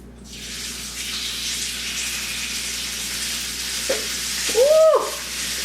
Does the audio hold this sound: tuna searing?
yes